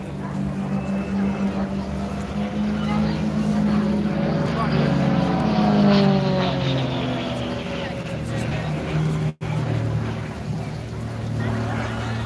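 Aerobatic aircraft snap rolling as it climbs at the International Ayr Show, a continuous engine drone rising and falling in pitch as it maneuvers, with a commentator talking throughout.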